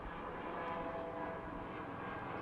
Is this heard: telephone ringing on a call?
no